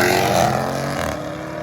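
A modified Jeep Trackhawk revs loudly nearby, a dense droning exhaust roar that eases slightly toward the end, with no distinct separate pops standing out.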